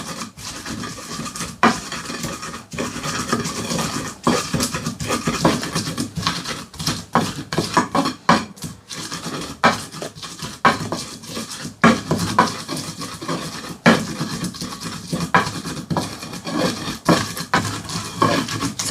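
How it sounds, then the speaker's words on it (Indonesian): Fresh chilies are crushed and ground in a stone mortar with a pestle for Indonesian sambal, giving continuous close scraping, rubbing and gritty knocking strokes in an uneven rhythm, with no talk over them. "Ini tak lembutkan cabenya dulu Mbak Bu Besti, soalnya kalau diulek bareng nanti jadinya lunyu,"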